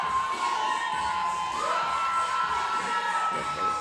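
A crowd at the Burn Boot Camp Athlete Games cheers steadily for competitor Nick Price, a continuous wash of shouts and whoops with no break for the whole stretch.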